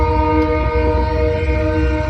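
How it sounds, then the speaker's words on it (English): A freight train horn blares steadily and loudly over the low rumble of a passing train, holding a sustained chord throughout with no pauses. "the train honk wasn't that loud, actually"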